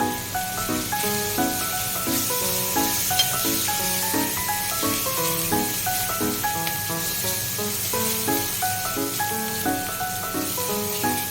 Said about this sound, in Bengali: এবারে এই শুকনো মশলাগুলো এর মধ্যে দিয়ে দেব।